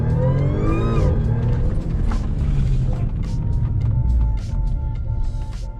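Audi B8.5 S4 launching from a standstill with 034 Motorsport launch control in dynamic mode, its engine revving hard and loud, close up, then pulling away with a sustained roar that stays strong throughout.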